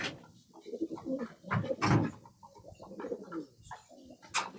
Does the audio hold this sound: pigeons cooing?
yes